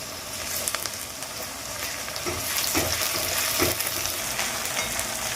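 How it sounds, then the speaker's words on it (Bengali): A spoonful of ginger paste frying in oil while cooking catla fish, a soft, steady sizzle with scattered crackles and a few scraping stirs, quiet and alone. "দেখো এক চামচ আদা বাটা দিয়ে দিলাম"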